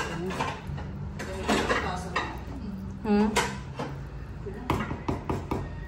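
Cups and dishes clink and clatter as they are handled and set down in a kitchen while lugaw arroz caldo is being served, with sharp ceramic knocks and rattling cutlery close by and voices intermittently in the background.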